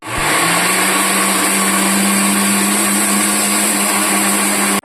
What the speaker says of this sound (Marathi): चला तर आता हे मिक्सरला आपण बारीक करून घेऊया